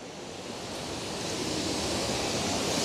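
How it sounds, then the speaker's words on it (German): A waterfall near Gigerwaldsee, Switzerland, roars continuously and close by, a dense, even rush of water that grows slightly louder. "Jetzt kommt man hier noch an den Wasserfall."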